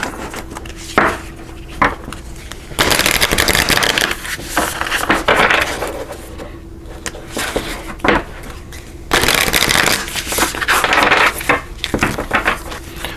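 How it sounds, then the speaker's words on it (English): Tarot cards being shuffled close up, with bursts of riffling and rapid papery flutters separated by quieter handling clicks and taps. "So we will shuffle these up here."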